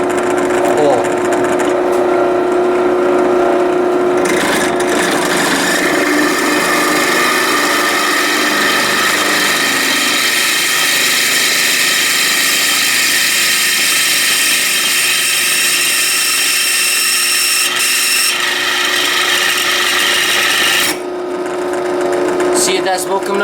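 A drill press bores an 8mm hole through knife blade steel, a steady loud grinding whine that runs continuously for about twenty seconds, with a brief change in pitch partway through before it stops.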